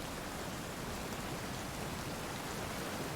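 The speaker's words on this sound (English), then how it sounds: "Still hear rain." Steady rain keeps falling in the survival video game Sons of the Forest, an even wash of hiss with no breaks. It sounds soft and fairly distant, and nothing else stands out.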